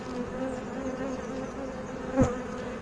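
Honey bees hum steadily around an open hive during an inspection, a close, continuous buzzing swarm with one brief louder bee passing near the microphone.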